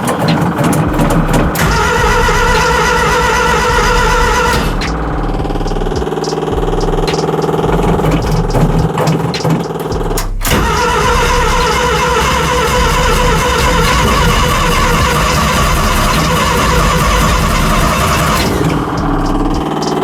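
A Chevrolet Suburban, long without its battery, is cranked after the fuel pump primes, with the starter grinding in bursts and the engine catching briefly, loud and close.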